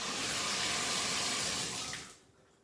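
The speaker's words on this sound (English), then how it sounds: "Now the faucet runs really smoothly." Water streams steadily from a faucet fitted with a newly replaced cartridge, a loud, even broadband rush that cuts off near the end, leaving a quiet tail.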